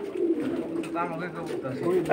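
Pigeons coo steadily in a home pigeon collection, a close, continuous low burbling with overlapping calls, while a voice talks over them throughout.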